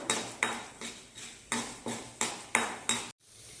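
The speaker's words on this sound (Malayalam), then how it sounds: "കടലപ്പരിപ്പ് ഇനി ഇതൊന്ന് നന്നായിട്ട് കൂട്ടി വരക്കാം" A utensil stirs chana dal in a metal pan on the stove, giving nine or so rhythmic scraping clinks at a steady pace, close and clear with no talk, before the stirring stops abruptly.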